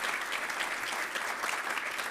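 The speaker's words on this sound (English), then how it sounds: "let's give a round of applause to both Kelly and Lavina" Applause from an audience for two presenters at the close of a live webinar: a steady, fairly quiet wash of clapping that runs unbroken throughout.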